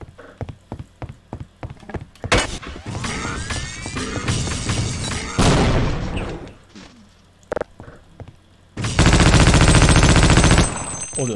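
Weapon fire in Half-Life: Opposing Force opens as sharp separate shots. It then turns into long, loud, sustained bursts of automatic fire with brief gaps, harsh and close, and no voices are heard.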